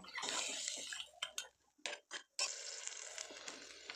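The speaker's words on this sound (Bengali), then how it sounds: "তারপর জল দিয়ে দেব" Water is poured into a pan of crab curry in two splashy streams separated by a short pause with a few small clinks, faint and close.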